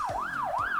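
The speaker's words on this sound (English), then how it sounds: "It's the siren. Oh, gosh, and very loud it is too." A loud wailing siren rises and falls in smooth repeated sweeps, close and continuous, filling the short moment on its own.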